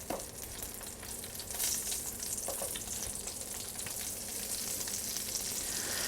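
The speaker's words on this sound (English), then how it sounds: "I can hear some sizzling." Eggplant slices sizzle steadily in hot oil, a continuous close crackle and hiss with scattered sharper pops and no voices.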